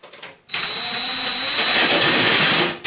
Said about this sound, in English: grab your hole saw and centre it up